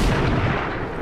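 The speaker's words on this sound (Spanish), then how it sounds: "Y el francotirador le ataca y..." A single sniper rifle shot in the strategy game XCOM 2, a heavy booming report that hits at once and rings out over the full second, loud and alone without talk.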